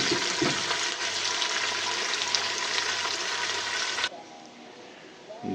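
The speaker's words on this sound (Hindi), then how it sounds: "2 मिनट मैं प्याज को इन आलूओं के साथ फ्राई करूँगी" Onions frying with potatoes in a pan, a steady, loud hissing sizzle that lasts throughout and thins out sharply near the end.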